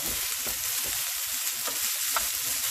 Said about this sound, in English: So, just saute it right in this pan.